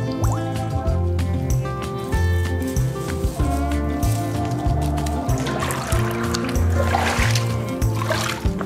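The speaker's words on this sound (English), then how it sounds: "Push that down to fill with water." A plastic bottle fishing trap fills with water, gurgling and dripping in uneven bursts and trickles, close and fairly loud, with a faint voice in the background.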